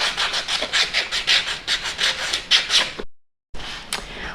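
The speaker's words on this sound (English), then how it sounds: "sand the edges so that all of the edges are nice and smooth" Rhythmic back-and-forth rasping of sandpaper on the edges of glued wooden drop-spindle pieces, close and steady, stopping briefly before resuming.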